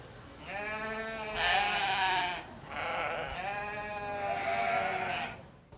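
Sheep bleat at a county fair livestock show, two long wavering calls close by with a brief pause between them and no talking.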